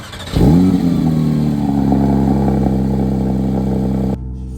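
A Porsche 911 GT3 with 100,000 km fires up and pulls away, its engine revving sharply then holding a steady, loud, close drone before cutting off abruptly.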